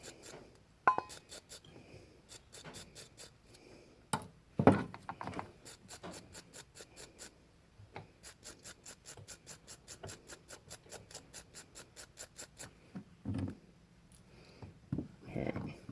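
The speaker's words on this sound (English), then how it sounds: "I'll go through, clean it up with a brush." A bristle or wire brush scrubbing tarnish off a part of a Briggs engine on an Ariens Deluxe 28, rapid rhythmic scratchy strokes in short bursts, close up, with occasional clunks and someone talking in between.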